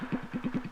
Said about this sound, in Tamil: என்ன வண்டி நிறுத்ததுக்கு அப்புறம் வேற ஏதோ வண்டி சத்தம் கேக்குது?